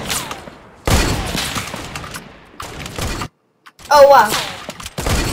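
Hunting rifle gunshots in the video game Fortnite, several loud sharp bursts with brief gaps, one near silence, mixed with game effects and excited talk.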